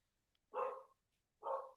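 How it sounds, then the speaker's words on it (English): A dog barks twice, two short sharp woofs about a second apart, fairly close against an otherwise quiet background. "are you getting attacked by a dog?"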